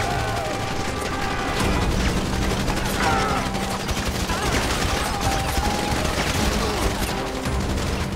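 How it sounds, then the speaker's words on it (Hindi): Dense, rapid gunfire crackles continuously in the video game GTA V, with bursts overlapping in a loud, chaotic exchange. "गोलियों की आवाज अभी भी आ रही है मेरे को"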